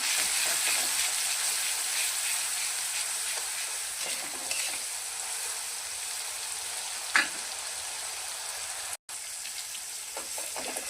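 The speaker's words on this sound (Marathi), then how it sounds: "उरलेला टमॅटो आणि बारीक केलेली मिरची मिरची मस्त फ्राय करून घ्या" Leftover tomato and finely chopped green chili fry in hot oil for a yellow potato dish, giving a steady, loud sizzle throughout with a brief stir or clatter and no talking.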